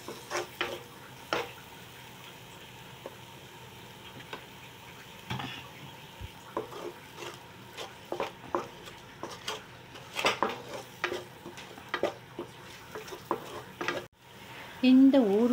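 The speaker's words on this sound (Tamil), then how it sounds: "மர ஸ்பூன் இல்லைன்னா மரக்கரண்டு இதில் கலந்து கொடுங்க." Green chilli and green turkey berry pickle stirred in sesame oil with a wooden spoon in a pan. Quiet, irregular scrapes and soft knocks come close by over a low steady background, with a louder bump near the end.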